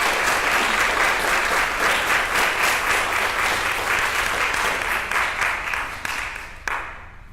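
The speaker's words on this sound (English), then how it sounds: "I asked you not to do the applause afterwards" An audience at a county board meeting about local libraries and book approvals breaks into sustained, dense applause that continues for several seconds before tapering off at the end.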